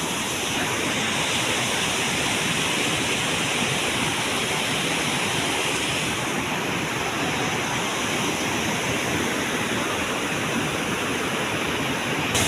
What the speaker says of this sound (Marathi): वर्षानुवर्षे या ठिकाणाहून पाणी वाहत दगडांना फोडत असा पाणी वाहत असतो